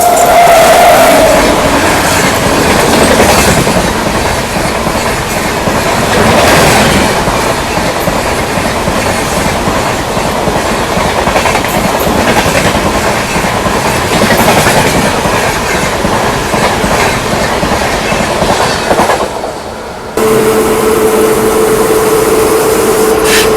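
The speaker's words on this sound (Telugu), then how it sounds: "మన ట్రైన్ అయితే విష్ణుపురం రైల్వే స్టేషన్ నుండి అయితే బయలుదేరి" Palnadu SF Express, an LHB-coach superfast train, runs steadily on rails with a loud continuous rumble and rhythmic clickety-clack of wheels over joints, a brief dip near the end before the rolling noise resumes.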